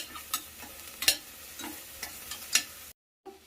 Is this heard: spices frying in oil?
yes